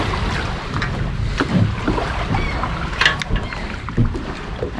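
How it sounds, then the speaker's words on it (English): Colectivo passenger boat motoring across the water in the Mexican jungle, with a steady low engine rumble, water wash and wind buffeting the microphone, plus a few knocks throughout. "Boats, a lot of boats."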